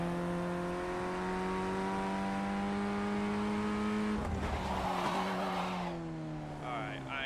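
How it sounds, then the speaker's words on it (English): Race car in a racing video game, MX-5 or F1600 on track, engine droning steadily with harmonic tones, then a burst of tire skid noise as the wheels lock up mid-clip before the engine note settles again. "I am definitely locking up the wheels"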